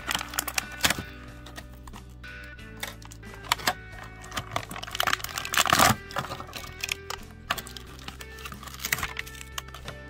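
A small razor slices and picks at toy packaging, giving sharp scratchy clicks and crackles in irregular bursts, close and fairly loud, with a denser crackle midway and no talking.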